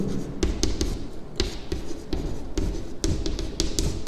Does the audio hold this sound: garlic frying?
no